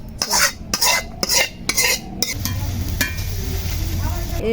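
Curry stirred with a metal spatula in a wok, several loud rhythmic scrapes and clanks, then the wok set down on the stove and a low steady hiss follows, with a voice speaking briefly.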